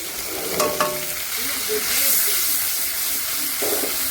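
Cashew paste stirred into a frying mixture in a pan, a close, hissing sizzle with a few sharp utensil knocks and scrapes over roughly four seconds, with no speech heard.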